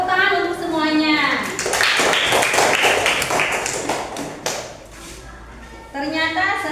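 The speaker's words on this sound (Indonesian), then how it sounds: "Tepuk tangan untuk semuanya." Children in an elementary classroom clap together in a steady burst of applause, loud and close, with young voices calling out at the start and end.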